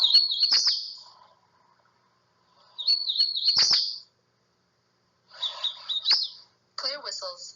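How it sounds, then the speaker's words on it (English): Hooded warbler singing in brushy understory, four clear whistled phrases each ending in a rising flourish, separated by short pauses, close and distinct with no other sounds. "here is a hooded warbler song"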